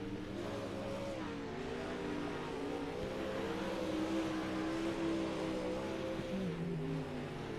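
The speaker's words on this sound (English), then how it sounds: "Couple of cars out for some late laps here." Dirt late model race cars running late laps at Kokomo, a steady distant engine drone with wavering revs rising and falling as the cars circle the track, fairly faint and without voices.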